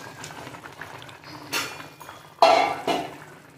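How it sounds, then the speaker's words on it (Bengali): Soaked tilapia fish are dropped into a simmering pot of curry with telakochu leaves, giving a couple of sharp splashy clatters and sizzles against a low bubbling background. "এখন ভিজে রাখা তেলাপিয়া মাছগুলো দিয়ে দেবো।"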